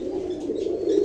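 A pigeon cooing close by, a low rolling coo that swells slightly toward the end.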